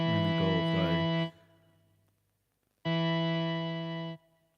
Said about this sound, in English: It's just the perfect amount of distortion.